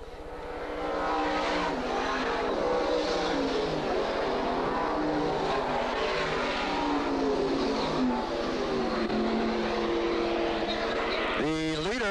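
Stock cars race around Flemington Speedway, engines roaring steadily and loudly throughout, with a race announcer talking over the continuous engine noise.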